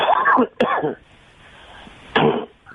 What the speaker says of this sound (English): I have allergies, so it makes me cough.